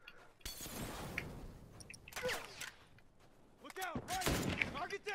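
Gunfire in the online game The Last of Us Online cracks out in sharp bursts and single shots, with excited shouting voices in between.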